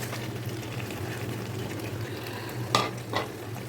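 Pre-fried chicken tossed into oily masala in a pan, a steady low sizzle with two short stirring scrapes near the end.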